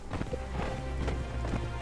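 Horse hooves pounding at a steady run in the survival game Conan Exiles, a dense rhythmic clatter under music and game sounds, close and fairly loud.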